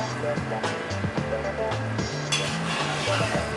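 A kidney bean mixture is stirred in a pot, with soft scraping and occasional clinks of a utensil against the pot under a steady sizzle, while a voice speaks throughout.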